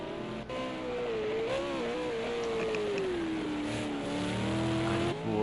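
A V8 Supercar race car drives a lap at Bathurst, its engine droning loudly and continuously with shifting pitch as it accelerates and slows, with faint tyre noise.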